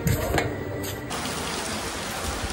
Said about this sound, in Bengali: জোরে বৃষ্টিটাও শুরু হলো